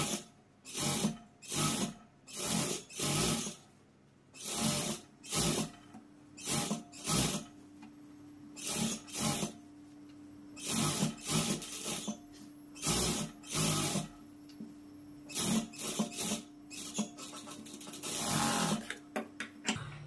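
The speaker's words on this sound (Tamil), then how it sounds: "இந்த மாதிரி ஒரு அரை இன்ச் வெளியில எக்ஸ்ட்ரா விட்டுட்டு கால் இன்ச் அளவுக்கு தையல் போட்டுக்கோங்க" An electric sewing machine stitches a blouse in repeated short bursts of fast rattling whir, starting and stopping every second or so, close and clear with no talking.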